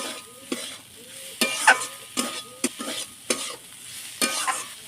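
Soybean chunks being stirred into spices in a hot pan, with a soft sizzle under repeated sharp scrapes and clacks of a spatula at an uneven rhythm, close and fairly loud, with no talking.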